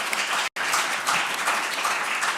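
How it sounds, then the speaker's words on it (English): A panel wraps up an OECD education event, and the audience applauds the panelists with steady, full clapping from many hands. A very brief dropout cuts the sound near the start. "So if we could give them a round of applause."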